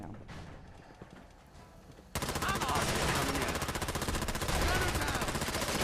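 Gun firing in Fallout 4: after a quieter stretch with faint scattered shots, a rapid automatic burst starts abruptly and rattles on loud and steady to the end.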